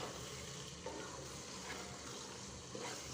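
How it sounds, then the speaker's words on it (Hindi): Minced meat with whole spices frying in a pan, a steady close sizzle with soft stirring scrapes throughout. "अब इसकी अच्छी तरह से भुनाई करेंगे।"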